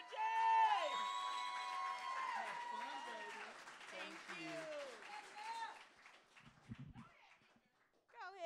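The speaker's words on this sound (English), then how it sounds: "We bring them out with a great applause, not a so-so applause." Applause and cheering from an audience welcoming a performer on stage, loud at the start then thinning out over several seconds, with talk and a singing voice running over the clapping.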